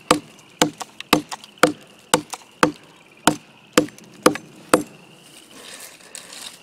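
A machete chopping into a very hard log outdoors, about ten sharp, woody strikes at a steady pace of roughly two per second, close and crisp, followed by a short stretch of quieter rustling.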